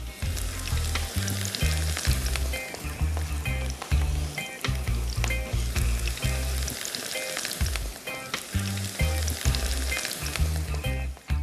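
Öcce herb fritters made with parsley, green onion and mint sizzle steadily in hot oil in a frying pan, with constant loud crackling and occasional stirring or flipping sounds and no voices.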